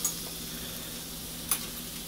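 Noodles stirred as they cook in a pan, a steady soft sizzle with two brief clicks of a utensil, close and even.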